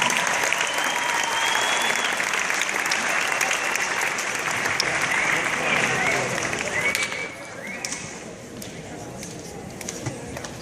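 An audience at a Future City competition's top five presentations applauds steadily, a dense sustained clapping that fades somewhat toward the end, with some background voices mixed in.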